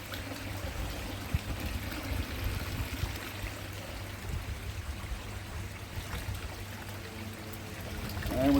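Water rushes and trickles steadily out of a backyard koi pond as it drains, a continuous close pouring with no speech.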